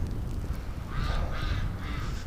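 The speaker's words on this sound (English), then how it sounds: "Oh, I hear you, duckies." Several ducks give hoarse, honking quacks in short bursts outdoors on a freezing winter day, moderately close over a low rumbling background.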